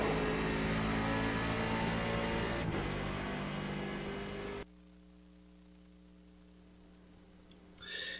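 Loud, steady roar of Riley Daytona Prototype race car engines at Road Atlanta in a racing simulator, a dense engine drone that cuts off sharply partway through, leaving a lower, quieter hum with a brief burst near the end.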